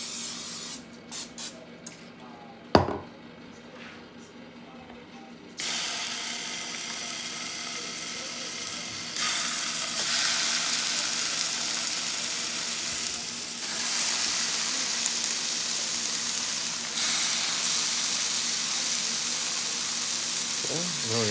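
Cut-up chicken sizzles steadily in a pan sprayed with Pam cooking spray, a continuous hiss that grows louder partway through, preceded by a few clicks and a sharp clack.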